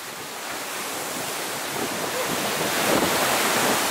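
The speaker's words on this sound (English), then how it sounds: "it's just so windy." Strong wind and crashing surf on the coast near Dover form a dense, continuous roar of waves and wind that builds slightly louder toward the end.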